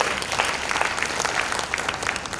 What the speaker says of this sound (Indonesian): kasih tepuk tangan yang meriah